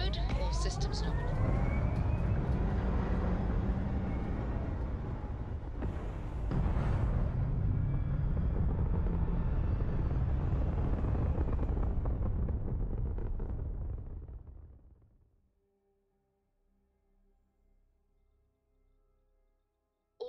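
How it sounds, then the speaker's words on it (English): A spaceship lifts off in the video game Starfield with a loud, continuous roaring rumble and a rising whoosh that holds for about fifteen seconds. It then drops away to near silence with faint lingering tones. "Liftoff looks good."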